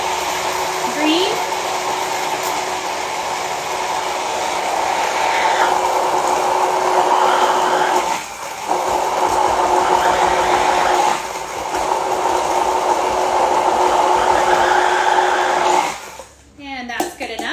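A blender whirs continuously through pear, mint and ginger bug drink, a loud steady grinding drone with brief dips as it pauses and slows, stopping with a clatter near the end.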